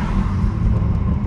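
Toyota Supra MK5 driving on a fresh tune revision with its MST cold air intake removed, giving a steady, close, deep engine and road rumble from inside the car, with no talking.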